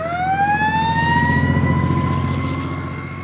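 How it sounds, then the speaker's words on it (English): A fire truck siren wails steadily and loudly as the vehicle passes close by on a California road, its rising tone sustained throughout with engine rumble and traffic noise underneath. "Let's let the fire truck pass."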